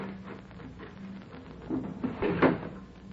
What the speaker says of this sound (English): Open those doors.